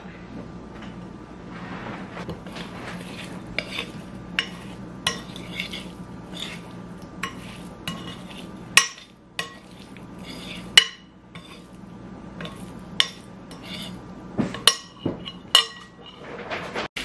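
Tofu frying in olive oil in a pan gives a soft, steady sizzle, broken by scattered sharp clinks and scrapes as a utensil stirs it against the pan.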